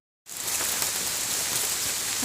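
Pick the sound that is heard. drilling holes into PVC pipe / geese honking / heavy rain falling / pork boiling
heavy rain falling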